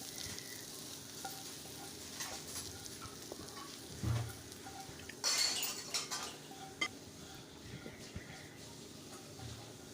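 Fried onions tipped into a simmering curry and stirred with a utensil, giving a quiet sizzle with scraping and a few clinks against the pot, brief louder clatters partway through.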